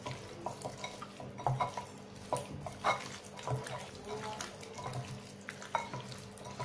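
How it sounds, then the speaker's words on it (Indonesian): Bare hands mixing a chicken wing mixture in a bowl for sweet and spicy fried wings: faint, soft wet squelches and light bowl knocks in an uneven, continuous rhythm. "Kita aduk-aduk, pastikan tangan kita udah bersih. Kita aduk terus sampai rata."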